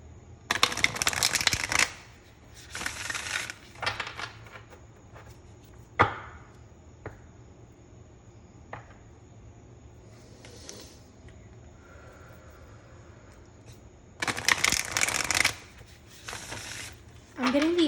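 Starseed Oracle cards shuffled by hand in several bursts of crisp riffling and flapping, close and fairly loud, with quiet gaps and soft knocks in between.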